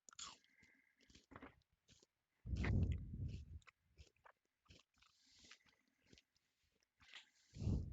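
A sake-flavored Kit Kat chocolate bar is chewed close to the mic, with soft wet mouth clicks and a few louder crunchy bursts between quiet gaps.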